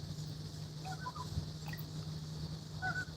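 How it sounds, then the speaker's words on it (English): Geese honking on a river, a few short calls scattered over a steady low background hum, fairly distant and moderately faint. "Here's some geese."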